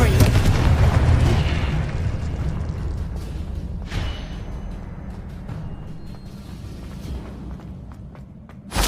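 A Confringo blasting spell explodes in the Hogwarts Legacy video game, a loud rumbling blast that decays slowly with crackling debris, followed by a sharp burst near the end.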